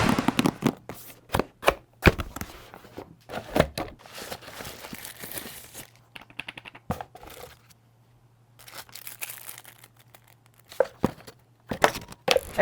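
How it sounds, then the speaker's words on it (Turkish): Unboxing the box of an Ajazz AK820 PRO keyboard: a run of sharp cardboard taps, tears and crinkling handling noises close by, bunched in bursts with quiet gaps between, and no talking. "Şimdi gelin klavyemizin bir kutu açılımını yapalım"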